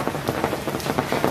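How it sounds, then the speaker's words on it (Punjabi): Light drizzle falls on surfaces outdoors after a night of rain, a steady soft patter of small drops with faint irregular taps, close and continuous, without talk. "ਲੱਗਾ ਕਿਣਮਣ ਜੀ ਹੋਣ ਲੱਗੀ"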